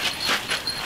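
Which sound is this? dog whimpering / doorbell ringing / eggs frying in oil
dog whimpering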